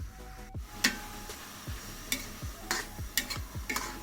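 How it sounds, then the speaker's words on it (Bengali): Salt, sugar and ghee are stirred together in a pan with a utensil, giving soft scrapes and a few sharp taps against the metal at an uneven pace, close up and with no talking. "লবণ চিনি আর ঘি ভালোভাবে মিশিয়ে নিচ্ছি"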